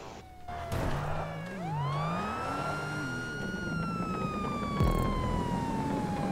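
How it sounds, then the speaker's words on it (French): Police car sirens in GTA 5 wail with a rising and falling electronic tone, loud and close, with a second siren line weaving beneath and a brief burst of engine noise, no talk. "grave les sirènes hein, des, des voitures de police."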